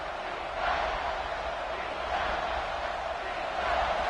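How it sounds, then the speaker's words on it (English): A football stadium crowd roars steadily during a PSU vs A&M college football video game broadcast, a dense wash of cheering that swells slightly in waves as the defense lines up on third down, with an announcer talking over it. "Decibels rising as the crowd gets behind this defense on 3rd down"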